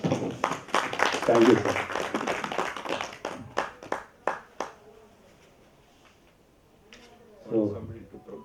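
A small meeting audience applauds the secretary's report at a branch gathering, a burst of clapping that starts strongly and thins into scattered claps before a brief spoken thanks and a few final claps.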